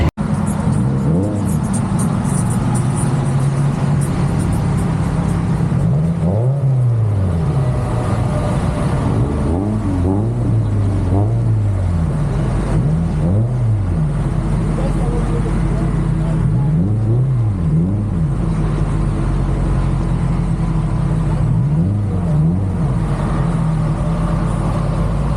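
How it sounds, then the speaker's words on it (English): A Dodge Charger Hellcat Redeye roars at a dragstrip, its loud engine note rising and falling through repeated rev sweeps and gear pulls, layered over constant heavy rumble and wind noise. "let's race this Hellcat Redeye Charger"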